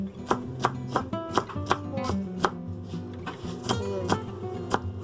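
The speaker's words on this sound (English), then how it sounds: "This is a red onion. Put red onion, make a refreshing. Chop very tiny bit." A knife chopping red onion very finely on a board, a quick run of sharp, evenly spaced close taps over soft background music, roughly two to three strokes per second.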